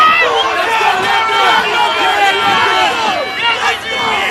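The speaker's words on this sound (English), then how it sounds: "Loud shouts of the crowd, but neck and neck between Tideway Scullers and London Rowing Club" Spectators at a women's rowing regatta cheer and shout loudly as crews race past, a dense continuous roar of many voices with rising yells, sustained throughout.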